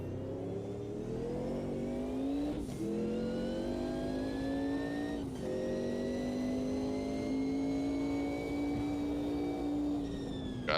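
Race car in a racing video game, the engine revving and climbing through the gears, a loud, close whine with two clear shift breaks, no voices.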